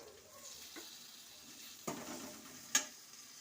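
Drumstick pods frying in oil under a lid, giving a quiet, steady sizzle with a few brief clatters of stirring.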